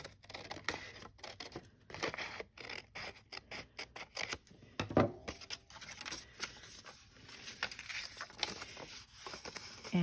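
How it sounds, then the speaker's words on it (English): Scissors snipping a piece from paper for a craft belly band, a close series of quick crisp cuts and rustles repeating irregularly, faint and near with light paper handling between snips. "I'm going to cut this piece off."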